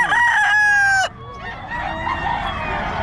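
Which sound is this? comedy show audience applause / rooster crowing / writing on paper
rooster crowing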